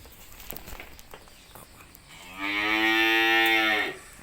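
A single loud, drawn-out cow moo lasting over a second on a cattle farm, following some quiet shuffling and rustling nearby.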